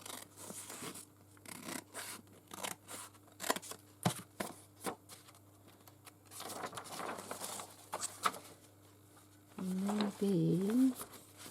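Scissors cutting lace trim snip repeatedly with crisp, uneven cuts, and faint rustling of material in between; a voice speaks briefly near the end.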